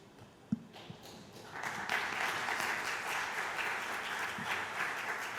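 An audience at a seminar on artificial intelligence bursts into applause for a speaker after a few isolated claps, settling into sustained, moderately distant clapping from a room of listeners.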